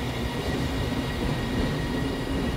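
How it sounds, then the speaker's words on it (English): Train at Salford Crescent railway station, a loud continuous rumbling roar of rolling wagons with a steady hiss and faint squeal, close by and heard alone without speech. "Haven't left David on that train, have I?"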